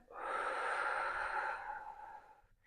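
A long, steady exhalation during a pregnancy yoga session, a soft breathy rush that swells quickly, holds for about two seconds and then fades away.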